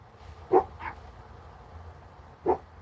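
Dogs give two short, sharp barks about two seconds apart, reacting to a truck passing outside, heard against low background rumble.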